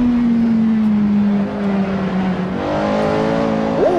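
A Porsche 918 hypercar in a racing video game pulls hard uphill, its engine note climbing steadily and loud, with a brief dip at a gear change before revving up again near the end.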